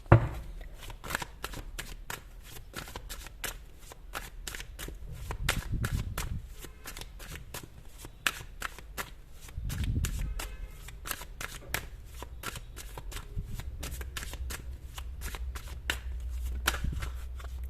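Oracle cards are shuffled for a tarot reading, giving quick rapid clicking riffles in repeated bursts with soft thumps between, close and fairly quiet, with no talking.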